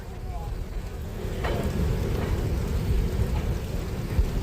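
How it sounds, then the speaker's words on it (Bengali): Heavy monsoon downpour beside railway quarters, a dense, loud, continuous roar of rain with a deep low rumble, occasional spatters and no talking. "মুষলধারায় বৃষ্টি শুরু হয়েছে"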